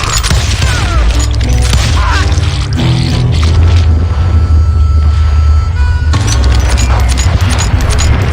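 Gunshots in the western video game Call of Juarez Gunslinger, a loud, dense barrage of shots and booms running continuously through the whole stretch.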